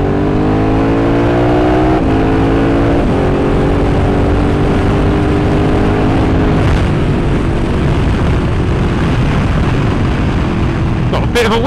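KTM Super Adventure S motorcycle accelerating hard on an open road, engine pitch climbing through rising harmonic sweeps with gear changes, loud and close amid heavy wind rush.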